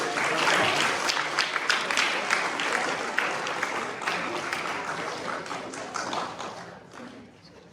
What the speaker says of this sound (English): Let's give one last round of applause for these kids.